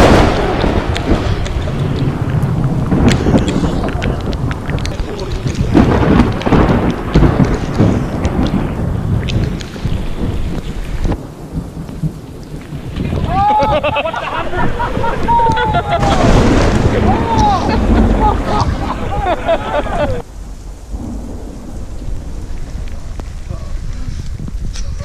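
Heavy thunderstorm with rain hitting a sailing regatta on Lake Glenbawn, rumbling thunder and steady downpour loud throughout, with people shouting and talking over the storm.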